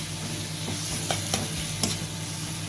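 Spice paste with turmeric and chilli powder being stir-fried in a pan: a dense, steady sizzle with a few light scraping strokes, close and without talking.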